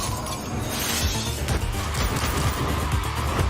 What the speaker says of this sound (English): Pointlessly breaks glass.